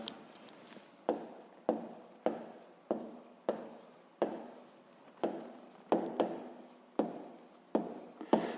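Pen or pencil writing out a maths answer on paper, heard as a close series of short scratchy strokes recurring roughly every half second, quiet and alone with no talk.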